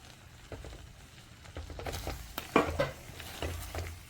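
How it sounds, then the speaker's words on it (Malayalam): Pickle with jaggery stirred in a pan, soft scraping and clinks of the spoon against metal growing busier partway through, with a quiet sizzle underneath, close and fairly faint. "നന്നായിട്ട് ഇളക്കുക"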